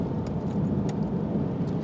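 An Aston Martin DBS Volante drives along a road, its engine a steady mid-pitched drone under continuous road and wind noise, without any distinct revving.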